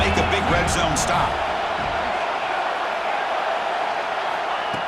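Stadium crowd noise in a college football video game, a loud continuous roar filling the whole stretch, with a commentator talking over it at the start.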